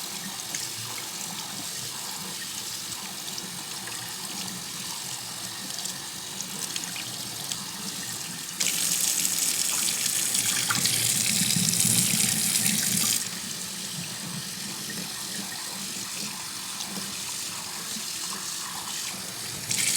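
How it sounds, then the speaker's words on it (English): Water runs from a kitchen sink tap as homemade cottage cheese is rinsed, a steady low stream that surges into a louder, harder gush for several seconds before easing back, with no voices. "we're going to take it over to the sink, and we are going to rinse it with hot water"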